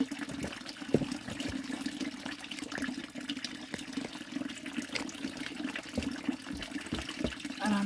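Water flows steadily at a hillside drinking spot on a pilgrims' path, a continuous close splashing and trickling with small irregular drips and spatters.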